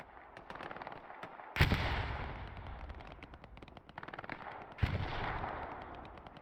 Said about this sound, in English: Oh, artillery.